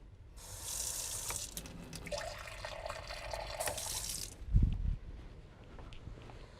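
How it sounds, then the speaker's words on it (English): Water pours from a tap into a cooking pot in a kitchen, a steady close hiss and splash for several seconds before it stops, followed by a brief clunk and quieter handling. "I'm going to go ahead and add a little bit more water to that"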